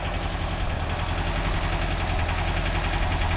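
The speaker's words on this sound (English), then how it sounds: "I'm gonna just let that motor run and let it warm up for a bit" An air-cooled 1982 VW Vanagon Westfalia engine idles steadily while warming up, a constant low, throbbing rumble with no break.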